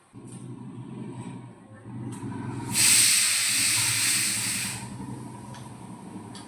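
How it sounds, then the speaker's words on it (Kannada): A loud hissing whistle of a pressure cooker cooking rice releases steam, bursting in midway and holding for a couple of seconds over a low background rumble. "ಕುಕ್ಕರ್ ವಿಸಿಲ್ ಆಗ್ತಾ ಉಂಟು"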